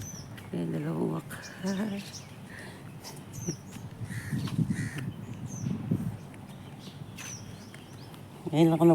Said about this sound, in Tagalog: Yan, dalawang uwak.